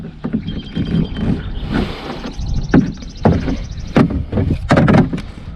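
A plastic camera mount clips onto a kayak with close, sharp clicks and hollow knocks against the hull, a few spaced snaps toward the end amid handling rustle.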